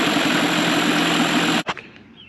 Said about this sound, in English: If you watch this video step by step, your motor will run like this.